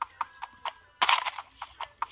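Horse in a video game, a quick run of clip-clopping hoofbeats in an even rhythm with a loud burst partway through, close and clear over a quiet background.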